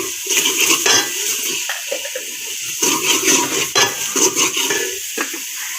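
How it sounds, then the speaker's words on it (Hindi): A spoon stirring fish curry masala in a metal pot, loud repeated scraping and clinking strokes in an irregular rhythm, close by, with no talk. "अच्छी तरह से इसको मिक्स कर देंगे चम्मच के साथ।"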